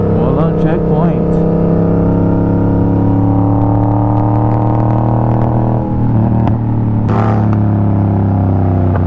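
Yamaha MT-07 motorcycle engine droning steadily on the road, with the pitch rising and falling during a rev-matched downshift. It is loud and close, with wind noise and a voice talking over it.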